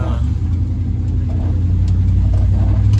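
A 1983 Dodge D150 pickup truck driving, its engine a loud steady low rumble heard from inside the cab with road noise, no talking.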